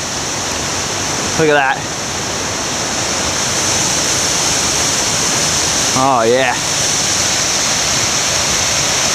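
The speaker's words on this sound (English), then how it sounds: "I guess this is a river, not a waterfall" Steady broadband rush of a river flowing in icy winter conditions near Eaton Lake, British Columbia, continuous and loud throughout, with two short whistled or sung calls and a few spoken words over it.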